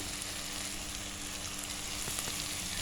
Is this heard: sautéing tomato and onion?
yes